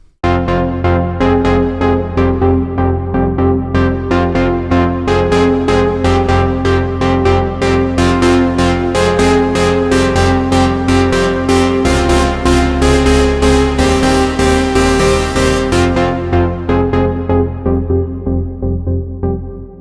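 Synth Island preset on the Diva synthesizer, a loud melodic techno pattern of rapid plucked synth notes over a deep bass, building in brightness before fading out at the end.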